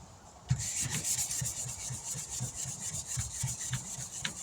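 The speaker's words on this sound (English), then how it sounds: "Might have to get that with the next grit of sandpaper." Sandpaper rubbed by hand over the bodywork of a 1996 Dodge Ram 1500 work truck, with quick, even back-and-forth scratching strokes that stay close and steady and have no talking.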